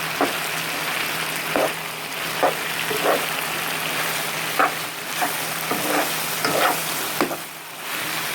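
Small pieces of chicken for orange chicken fry with a steady, close sizzle in a pan, punctuated every second or so by brief scraping knocks as they are stirred and moved around.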